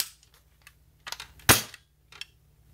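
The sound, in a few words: airsoft SPAS 12 shotgun being fired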